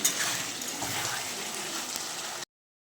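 Potato and cauliflower sautéing in a pan give off a steady, close sizzle with a soft crackle. It runs evenly for a couple of seconds, then cuts off abruptly into silence.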